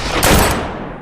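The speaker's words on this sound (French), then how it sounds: "avançant sous la pluie de balles" Battle gunfire in the Haitian fight against French troops, a brief dense burst of shots rolling together into a single loud, close blast that fades within a second.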